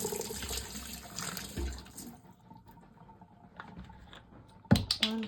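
A tablespoon rinsed under a running kitchen tap while making red velvet cake with cream cheese frosting: a steady wash of water for about two seconds, then quieter faint clinks, and a sharp clatter near the end.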